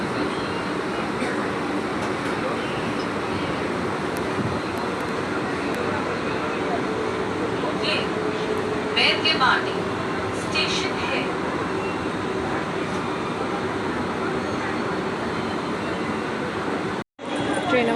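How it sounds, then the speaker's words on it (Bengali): Steady, dense rumble and rattle from inside a moving commuter train on a suburban line near Srirampur, continuous for the whole stretch with a few brief clicks and a momentary dropout near the end. "ট্রেন চালু হয়ে গেছে"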